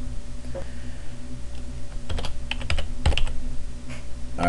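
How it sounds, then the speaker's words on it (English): Quick bursts of keystrokes on a computer keyboard while entering a city into a form, close and crisp clicks in short irregular runs over quiet room tone. "Now you'll notice if I type in a city,"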